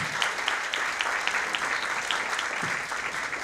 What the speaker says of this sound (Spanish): Un fuerte aplauso para la licenciada.